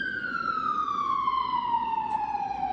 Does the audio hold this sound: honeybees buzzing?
no